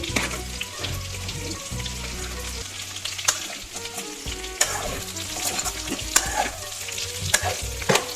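Oil sizzles steadily in a pan while a spoon stirs and scrapes, with occasional sharp knocks against the metal.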